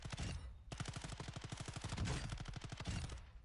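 SMG hipfire in the video game Call of Duty DMZ: a long, rapid, evenly spaced stream of gunshots after a brief opening burst, loud and close, continuing to the end.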